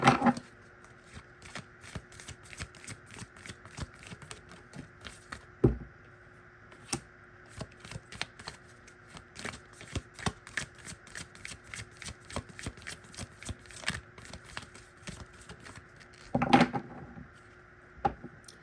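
Moonology oracle cards being shuffled by hand: steady papery riffling and soft slapping that repeats throughout, close and clear, with a few sharper knocks along the way and no talking.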